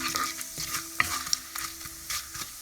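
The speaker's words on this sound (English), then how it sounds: "all these you can throw it on the oil. And just simmer it for a while." Spices such as cardamom sizzle in hot oil for chickpea gravy, with a steady close hiss broken by several light scraping stirs and small clinks of a utensil against the pan.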